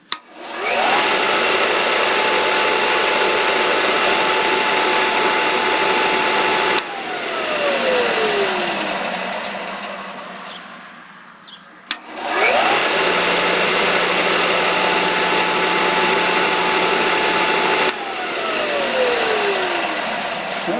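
A Porter Cable 4 by 36 inch belt and 8 inch disc sander motor whirs up to a steady loud hum, spins down, then starts again and runs steadily before winding down, with no voices.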